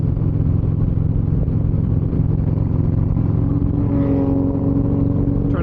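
Harley-Davidson motorcycles of a HOG chapter ride in a large group along Highway 9 in New Mexico. A loud, steady, deep engine rumble is heard up close with wind buffeting, and a brief higher engine note rises near the end.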